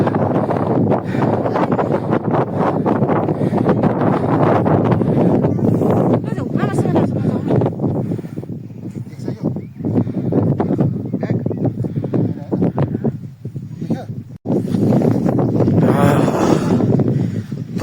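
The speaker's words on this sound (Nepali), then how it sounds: "हावा चाहिँ गजब लाग्दैछ है" Strong wind on a hilltop ridge roars and buffets the microphone continuously, with people talking over the rush of air throughout.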